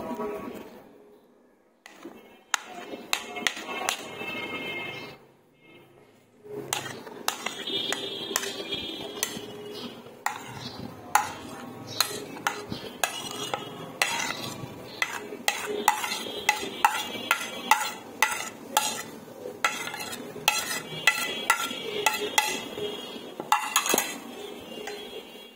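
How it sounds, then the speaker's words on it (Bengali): Salad ingredients being poured and mixed in a large bowl at home, with busy clinks and scrapes of a utensil against the bowl, steady close stirring punctuated by sharp clatters and a brief quiet stretch early on. "আমি এগুলো সবগুলাই একটা বোলে ঢেলে নিব"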